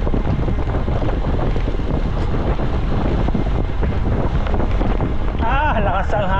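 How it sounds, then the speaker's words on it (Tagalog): Strong wind buffets the microphone on a boat, a constant loud roar throughout, with a voice briefly heard near the end. "Ah, lakas ang hangin."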